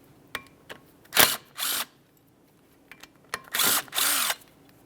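A cordless power tool backs out two T40 Torx screws from the front brake rotor of a 2006-2012 Ford Fusion, with two short whirring bursts, each led by a few clicks and taps, close and fairly quiet.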